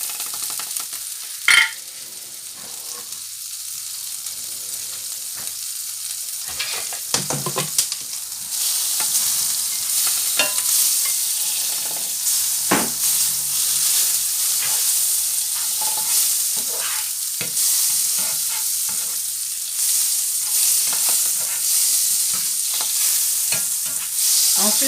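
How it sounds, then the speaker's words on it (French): Butter sizzles steadily in a hot pan as the first step of caramelizing apples, a bright continuous frying hiss with occasional stirring scrapes and clinks, close and fairly loud throughout. "la première étape, c'est d'abord la caramélisation des pommes. Voilà, on met le beurre."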